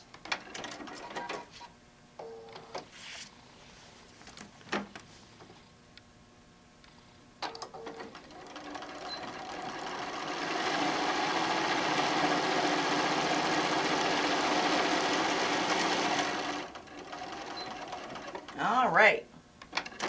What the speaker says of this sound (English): Stitch it across. Just at the ends.